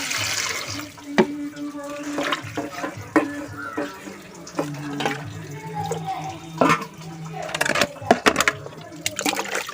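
Tap water runs while homegrown spinach is washed by hand, splashing and sloshing with clattering knocks and handling noise in a kitchen setting, loud and close.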